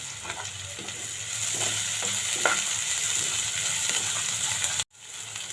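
Green chillies fry for an okra (ladies finger) curry, giving a steady, close sizzle with occasional stirring scrapes in the pan; the sound cuts out abruptly near the end.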